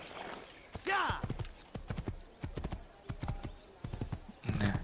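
Horse hooves clip-clopping in a steady, rapid gait with a brief whinny near the start, from the video game Assassin's Creed, moderately loud over faint background ambience.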